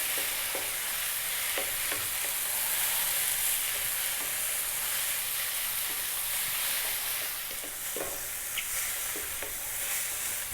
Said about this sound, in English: Very important to keep stirring now, because otherwise the powders are going to burn